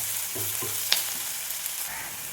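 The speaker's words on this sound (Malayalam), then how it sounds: "സവോള നല്ലപോലെ ഒന്ന് പാടി വരണം." Sliced onions sautéing in a pan for a chickpea kurma, a steady soft sizzle with a few brief stirring clinks, close and continuous with no talking.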